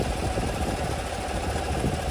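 A 2023 Isuzu NPR-HD 20-foot box truck idles steadily, its engine giving a constant low rumble and fine vibration, close and even throughout with no voices.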